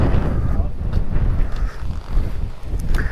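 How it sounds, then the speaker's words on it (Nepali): Wind gusting across the microphone at Manly lookout above Sydney, a steady low rumble with buffeting surges, with faint voices in the background. "हावा त हान्ने नि"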